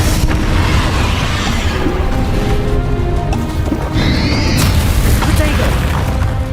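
A Confringo explosive spell in Hogwarts Legacy booms loudly amid dense combat noise, with a rumbling blast and a rising whine partway through, while game voices are heard underneath.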